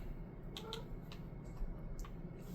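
A house cat meows several times in short, faint, high calls, scattered over low steady background noise.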